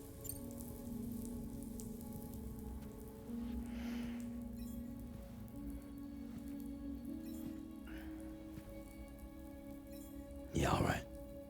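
Soft rain patters steadily in the Death Stranding 2 game world, faint and continuous under a low droning hum, with a brief louder burst of noise near the end.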